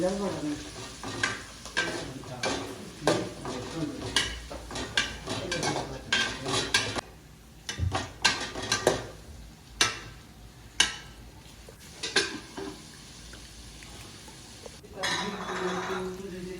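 Prawn biryani stirred in a pot over heat, with repeated close scrapes and clinks of a metal spoon against the pot under a steady sizzle, coming in bursts with short pauses.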